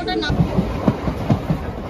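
Majerhat–Lakshmikantapur local train running on the line, a rhythmic rattle and clatter of wheels with periodic thumps, heard from nearby with a steady rumble underneath.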